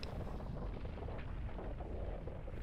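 A huge explosion in the video game Asura's Wrath blows up the earth, a dense, sustained low rumble with rolling blasts and no voices.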